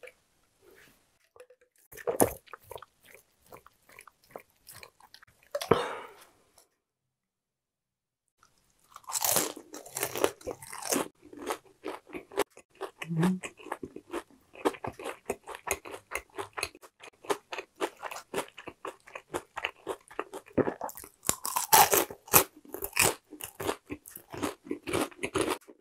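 Crispy fried chicken from Barun Chicken is bitten and chewed up close, with sharp loud crunches of the crunchy coating followed by dense runs of crackling chewing, broken by a brief pause.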